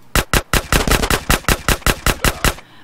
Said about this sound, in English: this one fires quicker. See how much the rapid fire.